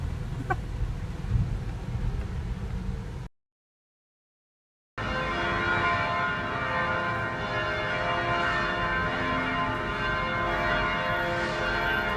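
Church bells ring on and on with sustained, overlapping tones after a short silent gap, while fowl cluck faintly in the background.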